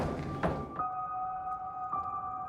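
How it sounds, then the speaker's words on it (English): A door bangs in a London Underground tunnel with one heavy, close thud early on, then a steady tonal whine and rumble from the moving train carries on underneath. "I love the noise that the door makes. It's going to bang again."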